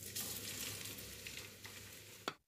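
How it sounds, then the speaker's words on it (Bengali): Chopped garlic frying in hot oil and ghee over medium flame, a steady close sizzle with light stirring for a couple of seconds before it cuts off. "রসুনটাকে মিডিয়াম ফ্লেমে নাড়াচাড়া করে 30 সেকেন্ড মতন ভেজে নেব।"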